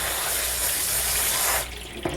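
A kitchen sink spray gun rinses boiled noodles with cold water in a steady loud hiss of spray that cuts off sharply after about one and a half seconds, leaving faint drips.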